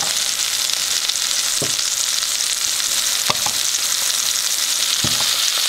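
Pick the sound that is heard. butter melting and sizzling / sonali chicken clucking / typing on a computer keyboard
butter melting and sizzling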